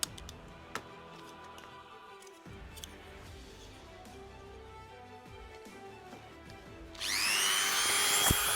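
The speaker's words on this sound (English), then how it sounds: "I'm going to drill out the corners." A power drill bites into the corners of a cosplay blaster, a quiet stretch of small ticks and handling noises, then a sharp high whine of the drill spinning up close for the last second and a half.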